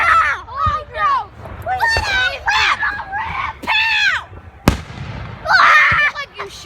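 Fireworks go off outdoors: a couple of sharp, close pops and bursts cut through excited children's voices, which shout and chatter throughout.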